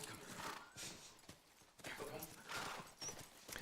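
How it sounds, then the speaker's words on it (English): A horse clip-clops in The Last of Us video game, faint rhythmic hoofbeats and noisy movement sounds in repeated swells, heard under a voice talking. "A horse, please."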